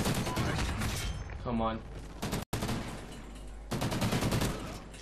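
Gunfire from a Remington in an e-sports shooter game: dense bursts of shots and impacts, loud and close, with a brief dropout midway and someone talking over the action.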